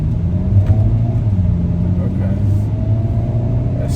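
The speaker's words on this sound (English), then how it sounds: "I guess there's still a bit of an exhaust note even in normal, huh?" Hyundai Kona N engine and exhaust in normal mode, a steady low rumble under light throttle from inside the car, fairly loud and continuous with no sharp revving.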